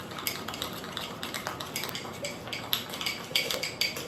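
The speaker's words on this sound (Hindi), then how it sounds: "मैं पहले ना शुगर और कॉफ़ी पाउडर को इस तरह से फेंट लेती हूँ अच्छे से" A spoon whisks sugar and coffee powder in a cup or jar, producing quiet, rapid clinking and scraping strokes in an uneven rhythm close by.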